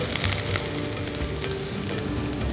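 Country chicken curry ingredients sautéing in a pan for Chettinad-style kozhi kuzhambu, a steady close sizzle and crackle with soft stirring scrapes throughout.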